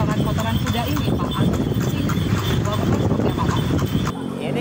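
A horse pulling a dokar, a traditional horse-drawn tourist carriage, clip-clops along the road in a steady, close, rhythmic hoofbeat.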